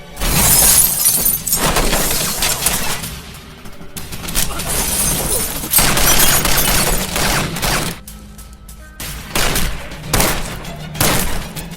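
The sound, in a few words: gunfight in a movie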